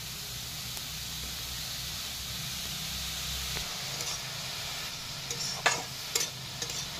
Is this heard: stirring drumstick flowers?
yes